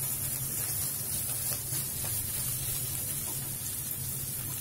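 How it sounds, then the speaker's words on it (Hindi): Smashed paneer frying over medium flame with half-fried onions in a pan for paneer paratha filling, a steady soft sizzle and hiss with no talking. "अब हम इसमें स्मैश किया पनीर डाल देंगे। फ्लेम मीडियम रखेंगे, इसको ज्यादा देर फ्राई नहीं करना है।"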